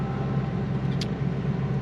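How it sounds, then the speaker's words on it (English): A car drives past near an abrupt driveway on the left, a steady broadband road rumble sustained throughout at moderate loudness, with no talk. "She's got a car coming."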